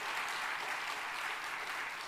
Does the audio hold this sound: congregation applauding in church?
yes